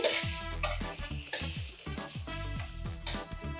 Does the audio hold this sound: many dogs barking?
no